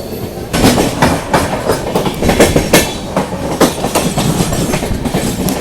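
The West Coast Superfast Express from Chennai Central to Mangalore rolls along loudly, with rhythmic clickety-clack wheel beats over a constant rumble heard from inside the coach.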